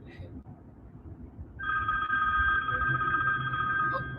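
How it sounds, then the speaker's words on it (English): A telephone starts ringing partway through with a loud, sustained electronic bell tone for an incoming call, preceded by a quieter stretch of room noise and faint voices. "I'm getting a phone call."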